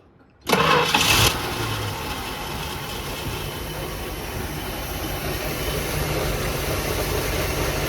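A Dodge truck's first-generation Cummins diesel cranks briefly and fires up with a loud burst, then settles into a steady, rough, clattering idle close by.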